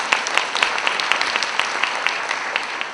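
Sustained audience applause at a live corporate presentation, dense and fairly loud, with individual claps standing out in a quick, even rhythm throughout.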